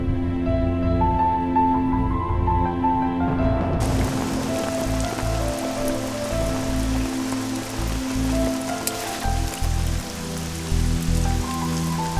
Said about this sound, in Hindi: बारिश भी थोड़ी कम हो गई है